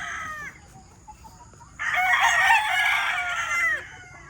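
A battle stag gamecock crows once, close and clear, a long rising-and-falling call after a few faint clucks, against a quiet rural background.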